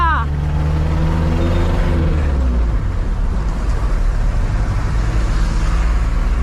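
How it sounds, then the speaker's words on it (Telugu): A Hindustan Contessa car being driven, its engine and road noise a loud, steady low rumble throughout, with a voice speaking briefly at the start. "ఓహో, ఐఎమ్ డ్రైవింగ్ కాంటెస్సా."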